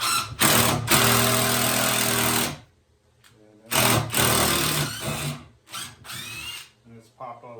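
Loud, close power drill driving a large GRK screw into workbench wood, in several bursts: a long whirring run, a pause, then shorter stop-start spurts as the screw seats.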